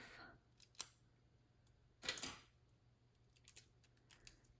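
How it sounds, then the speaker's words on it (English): A few sharp snips of scissors cutting a gel nail sticker in half, close by, with brief quiet gaps and light handling clicks between cuts. "Using the scissors, cut it in half."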